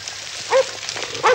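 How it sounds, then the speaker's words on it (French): Cartoon dogs bark twice, two short yapping barks spaced about a second apart over a quiet, soft background with no talk. "J'entends des chiens."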